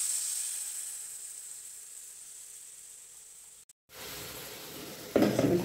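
Water poured into a pan of frying green flat beans (sim) sets off a sudden loud sizzle and hiss after a steady quieter background hiss, with a brief gap before the burst.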